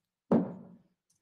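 A single full-range kick drum hit recorded as foley in Bandlab, a short punchy thump with a quick decay, close and alone.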